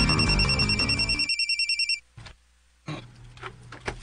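A cellphone rings with a rapid, pulsing electronic chime for about two seconds, then cuts off abruptly, followed by quiet room noise and faint handling sounds.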